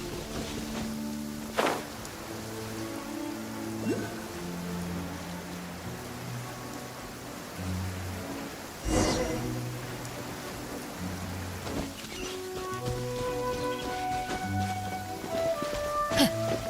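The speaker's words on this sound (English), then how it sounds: "It always rains when I go on an adventure." Rain in the video game Genshin Impact: soft, steady rainfall beneath gentle, melodic background music, with a few brief louder splashes or rumbles rising out of the patter.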